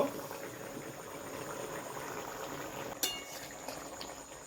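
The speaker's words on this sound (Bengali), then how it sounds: "এটাকে আমি আর একটু ফুটিয়ে নেব এই ঝোলটা আমার আর একটু কমিয়ে নেব" Raw katla fish curry simmering in an open pot, a steady close bubbling hiss with one sharp metallic clink partway through; no talking.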